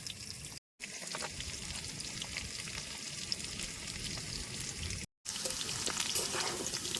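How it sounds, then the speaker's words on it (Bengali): Pieces of taro fry steadily in hot oil, giving a continuous close bubbling sizzle with faint crackles, broken by two brief silent gaps. "কচুগুলাও দেখেন আলুর মতন কত সুন্দর ভাজা হয়ে গেছে না"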